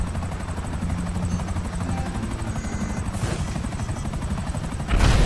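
A helicopter's steady rotor chop drones throughout in GTA as a missile is fired and diverted by flares, ending in a sudden loud burst near the end.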